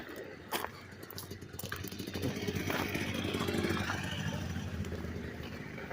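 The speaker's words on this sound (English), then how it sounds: "That was a dirt bike" A distant dirt bike engine drones and revs steadily in an outdoor setting, a continuous buzzing rumble with faint clatter, rising and falling slightly over several seconds.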